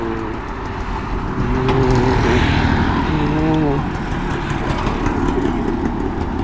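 Several Royal Enfield motorcycles start up and idle at a busy World Motorcycle Day event in Chennai, a steady close engine rumble rising briefly as throttles are blipped, with voices talking over it.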